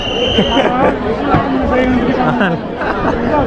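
Dense crowd chatter and babble at the Lalbaugcha Raja Ganesh darshan in Mumbai, a continuous loud hubbub of many voices close around.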